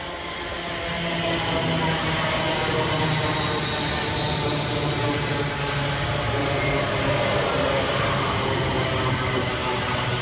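Class 350 electric multiple units 350 110 and 350 407 on a delayed London Northwestern Railway service pull into Berkswell railway station, giving a steady, fairly loud rolling rumble that builds within the first second and holds throughout.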